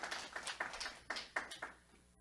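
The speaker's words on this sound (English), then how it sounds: "Can we get an applause in the room for that?" Scattered applause from a modest audience in a meeting room, a handful of quiet, uneven claps that taper off within two seconds, faint and somewhat distant.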